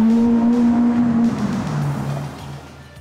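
A brand new Bentley Mulsanne drives past, its engine humming steadily before fading and dropping in pitch as it moves away, with no voices.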